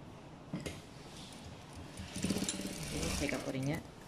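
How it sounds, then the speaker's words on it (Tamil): A sewing machine stitches a folded-down hem on a pinafore, running in short bursts of rapid mechanical whirring close by, with a voice talking over it at times. "இனி நாங்கள் வந்து இதை கீழே மடித்து தைக்க போகிறோம்"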